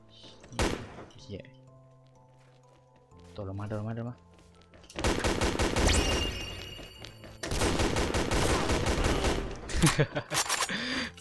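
Gunfire in the video game XSHOT comes in loud, rapid bursts of automatic fire, broken by thumps and a whooshing effect, while a player talks excitedly through the action.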